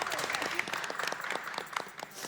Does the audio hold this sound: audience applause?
yes